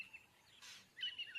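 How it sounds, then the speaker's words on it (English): Insect-eating birds gather at a six-day-old lion kill to feed on maggots; faint, high chirps and short tweets come from a moderate distance, scattered and then clustered toward the end, over quiet open-air background. "By the 6th day, insect-eating birds find the carcass."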